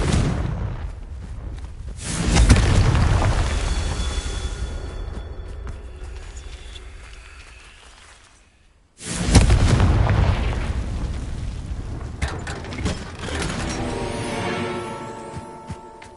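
A Confringo blast spell in Hogwarts Legacy detonates twice, each a loud, heavy boom with a long, rumbling decay that fades before the second, equally forceful explosion hits.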